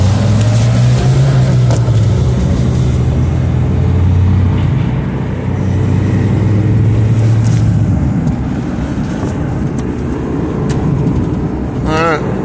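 Car driven fast and recklessly in a rush to reach the emergency room, with a steady, loud engine and road roar, low droning tones and wind buffeting the microphone throughout.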